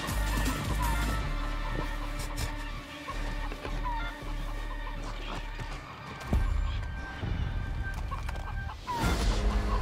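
Chickens cluck repeatedly in Far Cry New Dawn, a series of close, fairly loud squawks and clucks amid other game sounds, including what may be hooves and a horse's whinny.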